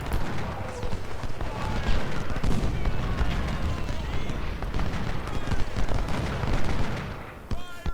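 Howitzer artillery booms and volleys of gunfire crackle through a Civil War battle at Gaines' Mill in Ultimate General: Civil War, dense and continuous with repeated sharp reports.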